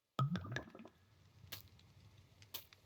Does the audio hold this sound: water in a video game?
yes